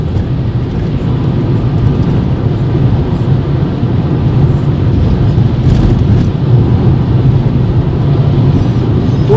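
Car cruising along a summer highway from Odesa toward Koblevo, a loud steady rumble of road and wind noise that continues evenly throughout, with no voices.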